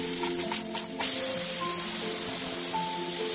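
A pressure cooker whistle releases steam while chicken curry cooks. The hiss is loud and steady for the whole stretch, with a few faint tonal whines over it and some brief pulsing near the start.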